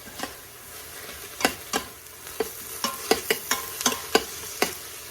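Garlic and ginger paste stirred in an Instant Pot for chicken tikka masala, a soft background sizzle punctuated by a dozen sharp spoon taps and scrapes against the metal insert, no talking.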